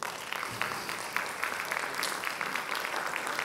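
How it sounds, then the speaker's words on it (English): Audience applause welcoming the Country Manager of Airbnb Spain and Portugal onstage at a business talk event, a steady, fairly soft wash of clapping from a moderate distance with no voices. "Please welcome and give a great round of applause to Mónica Casañas"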